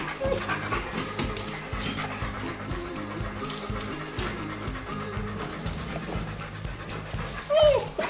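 Dogs pant rapidly and whimper close by while hiking in a remote Arizona slot canyon, the breathing continuous with a louder whine near the end, and people talk faintly alongside.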